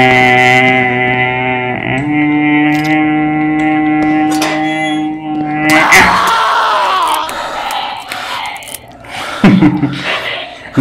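A player screams loudly and continuously into a microphone while playing a horror game, a long sustained tonal yell that breaks into rougher shouting and groans toward the end.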